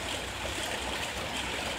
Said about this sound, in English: So yay, it's raining in the desert.